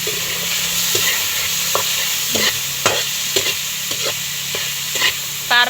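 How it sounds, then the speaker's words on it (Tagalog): Chayote sautéing in a pan for pancit canton guisado: a steady sizzle of frying with scattered stirring scrapes and clicks, loud and close, no talk. "igigisa na din po ni Jampol yung sayote"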